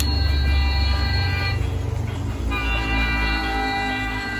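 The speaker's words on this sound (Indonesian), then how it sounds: "Wow, kereta apinya mulai naik ke atas jembatan" A toy electric train runs along its track and climbs onto a bridge, giving a steady, close mechanical rumble with a faint whine that holds even throughout.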